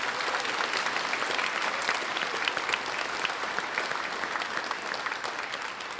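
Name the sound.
audience applause for school band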